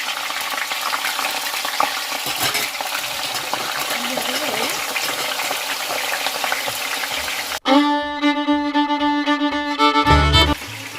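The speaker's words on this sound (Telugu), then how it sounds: "చూడండి గుమ్మ గుమ్మలాడే చిప్స్ అయితే రెడీ అవుతున్నాయి" Potato chips fry in hot oil with a steady, loud sizzle throughout, while a burst of bright tonal clatter joins in near the end.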